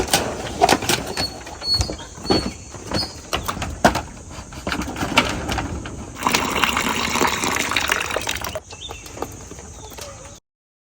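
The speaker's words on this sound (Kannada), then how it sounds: "ಸ್ವಲ್ಪ ನೀರು ಹಾಕ್ತೀನಿ" Water poured from a vessel onto young areca palm saplings in a village plantation, a steady splashing gush that swells louder midway, with faint birdsong in the background.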